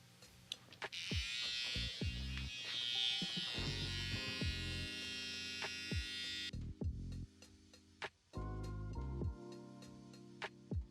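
Electric hair clippers buzz steadily up close while sharpening the lines of a freestyle haircut design, a loud continuous hum that cuts off partway through, leaving a quieter motor drone broken by short clicks.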